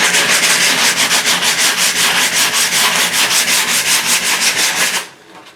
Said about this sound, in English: So let's see if it sands.